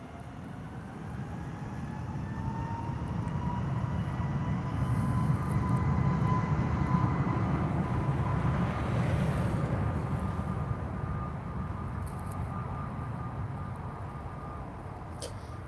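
Aircraft noise at Lisbon Airport: a steady, loud jet engine roar that swells and then slowly fades as a plane passes, a distant whine beneath it, heard outdoors with no talking.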